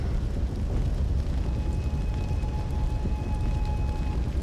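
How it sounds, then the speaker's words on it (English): Iron barrel spewing fire in Sekiro: Shadows Die Twice, a loud sustained roaring whoosh of flame that stays dense and even from start to finish, with no voices. "Iron barrel that spews fire."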